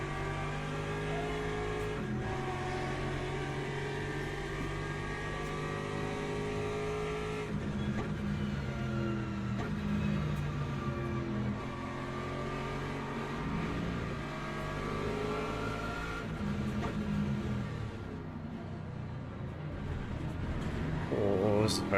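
Hypercars racing past during an endurance race, a continuous layered drone of engines rising and falling as cars work through traffic, with a commentator talking over it and the engine noise swelling louder toward the end.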